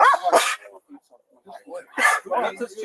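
During a police callout in Lewiston, Maine, a dog gives a couple of sharp barks close by, mixed in with officers shouting orders.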